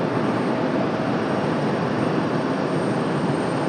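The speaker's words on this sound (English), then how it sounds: "we're just waiting on traffic on the right side to get airborne" An airliner powers up for takeoff at Raleigh-Durham International, heard as a steady, loud, broad jet-engine rush with no other sounds over it.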